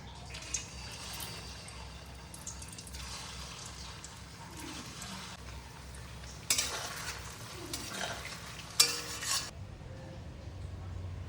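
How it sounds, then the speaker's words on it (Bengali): Paneer koftas frying at medium heat in oil with a little ghee, giving a faint, low sizzle broken by a few louder bursts of stirring and scraping in the pan. "মাঝারি আঁচে পনিরের কোপ্তাগুলোকে ভেজে নিচ্ছি।"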